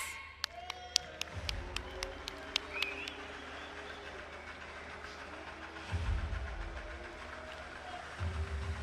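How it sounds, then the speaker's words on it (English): A few scattered hand claps ring out from the crowd at an EA FC 25 esports tournament final, sparse and sharp at first before fading under the hall's hum and a speaking voice. "some people are actually clapping"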